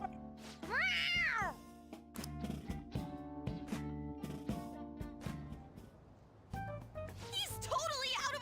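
A cat meows repeatedly in the video game Persona 5 Royal, with a long rising meow standing out over game music, bright chime tones, and talking voices.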